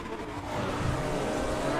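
A Lotus GT4 race car in the RaceRoom racing game at the start of an online ranked race at Brands Hatch Indy, engine roar building steadily with the surrounding field, continuous and fairly loud with faint tyre noise.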